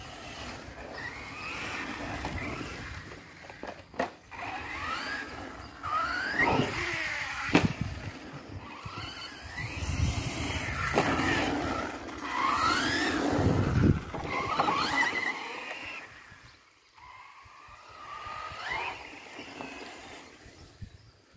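An Arrma Mojave RC car runs on an asphalt circuit with fluctuating electric motor whines that rise and fall as it passes and accelerates. Tyres scuff, and there are occasional bumps at moderate distance.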